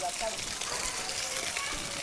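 Water gushes steadily under strong pressure from a village panchayat tap on a new pipeline, a continuous loud rush over which a person talks.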